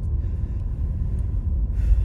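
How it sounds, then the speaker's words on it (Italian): A car bouncing over rough ground gives off a steady low rumble at close range, with a faint brighter burst near the end. "Perché la macchina sta saltellando?"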